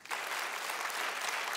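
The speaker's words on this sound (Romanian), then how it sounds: "Aplauze pentru... Hai, Bordea!" A studio audience claps and cheers for Romanian comedian Bordea on the iUmor stage, dense steady applause starting abruptly and holding at an even level throughout.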